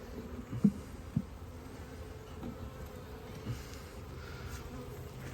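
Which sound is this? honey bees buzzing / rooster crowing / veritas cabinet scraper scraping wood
honey bees buzzing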